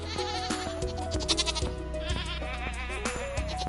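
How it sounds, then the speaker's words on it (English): Goats on a farm in the Stardew Valley video game bleat in short repeated calls over steady game music, with several cries scattered through the passage at moderate volume. "Then here be my goats."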